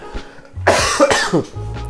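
A few harsh coughs from a nearby person in quick succession, with a low hum underneath and no talking.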